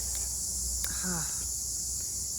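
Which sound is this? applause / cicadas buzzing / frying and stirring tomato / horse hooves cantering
cicadas buzzing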